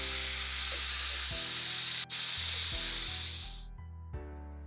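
A pressure cooker hissing loudly with steam while dal cooks in a kitchen, a steady, close rush that cuts off near the end, leaving a low hum beneath.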